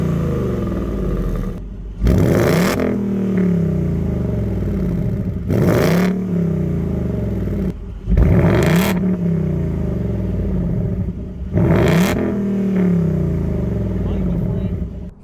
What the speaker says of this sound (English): But yeah, normally I do like the sound of the Mustang GTs.